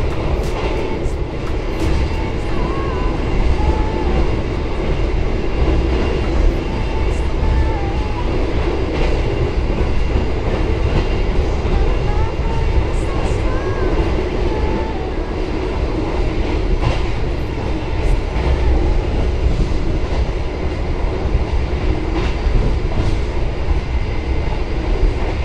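Steady loud rumble of the Purwojaya passenger train from inside a carriage at night, with continuous wheel roar on the rails and occasional clicks and rattles.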